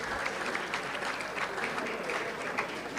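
Audience at a Ghana Navy Memorial Day ceremony applauding: fairly faint, continuous crowd clapping at a distance, steady for the whole stretch.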